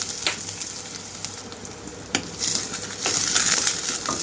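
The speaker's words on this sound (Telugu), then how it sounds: "తాలింపు అంతా చిట్టపట్టమంటూ వేగేటప్పుడే కట్ చేసి పెట్టుకున్న ఉల్లిపాయలు మొత్తం వేసుకున్నాను" Chopped onions dropped into hot oil with crackling tempering seeds for a Telugu amaranth-leaf and chana dal fry, giving a steady close sizzle that swells louder after the onions go in, with faint clinks.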